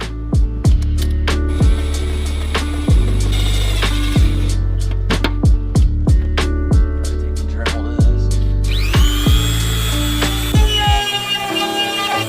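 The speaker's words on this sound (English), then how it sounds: "take my drill and get this one into the fender liner" A power drill drives a screw into the plastic fender liner of a turbocharged Mazda: loud, steady motor whine with sharp clicking ratchet bursts, rising to a higher pitch near the end before stopping.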